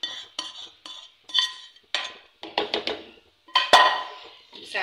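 Chicken is stirred into a pot for Lahori hareesa with a metal spoon, giving about a dozen separate clinks and scrapes in an irregular rhythm, close up with no voices.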